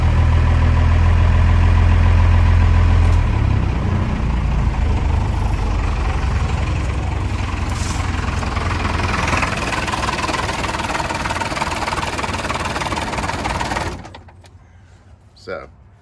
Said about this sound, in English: It won't shut off when I turn the key off.